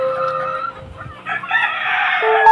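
Gilmore Hatch hens cluck close by in short, throaty bursts, followed by a Gull roundhead broodcock rooster's loud, drawn-out crow near the end.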